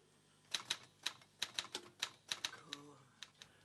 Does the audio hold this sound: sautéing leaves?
no